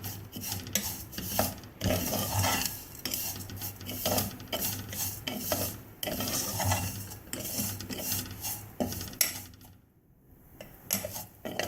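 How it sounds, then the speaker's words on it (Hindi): Vermicelli (sevaiyan) frying in a little oil in a pan over a low flame, stirred continuously; close, busy scraping and clinking of the utensil against the pan, repeating steadily throughout. "बस इनको मुसलसल हिलाते जाएं"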